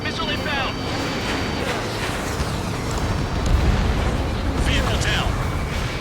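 A missile explosion in the combat flight game Ace Combat 7 produces a loud, sustained roaring rumble and blast noise that fills the scene, with voices talking over it.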